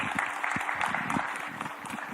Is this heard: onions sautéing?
no